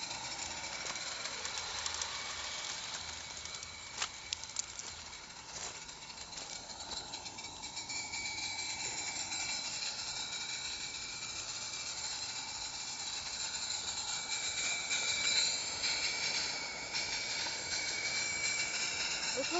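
A small steam engine runs with a steady hiss and rapid chuffing, a few sharp clicks early on and a faint high whine throughout.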